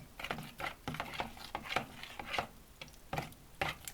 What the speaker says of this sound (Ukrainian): Це так от розмішаю